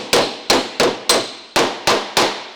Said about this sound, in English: all you have to do is hammer and dolly and work your weld